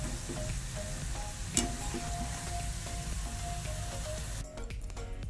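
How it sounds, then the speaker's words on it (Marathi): Nachni (finger millet) shankarpali snacks frying in hot oil give a steady, close sizzle throughout, with faint clinks of a utensil against the pan and no talk. "तळून झालेले आपण आता काढून घेऊया"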